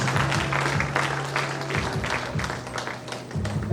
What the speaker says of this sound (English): Please let's keep clapping as we take their seats.